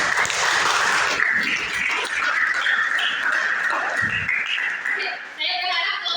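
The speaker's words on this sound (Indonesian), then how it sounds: "Oke, kita tepuk tangan bersama." A classroom full of students claps and cheers together, loud and sustained, with chatter mixed in before it tapers off.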